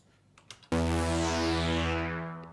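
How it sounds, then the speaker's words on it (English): A synthesizer preset from the OB Extreme VST plugin swells in after a few faint clicks, sustaining one rich, bright chord that slowly fades, heard alone. "it's one of my favorite presets from the OB Extreme VST"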